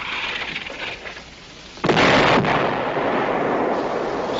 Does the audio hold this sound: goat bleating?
no